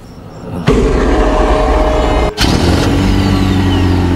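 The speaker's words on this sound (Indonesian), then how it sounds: "mobil mereka pun kembali menyala" A car engine turns over and catches, settling into a loud, steady idle with a brief dip and a sharp surge partway through.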